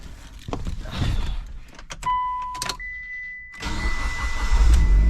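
A car engine cranks and catches, then keeps running with a steady hum; clicks and a faint electronic tone come before it.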